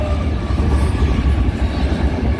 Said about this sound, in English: a train just arrived, and it's a intermodal train today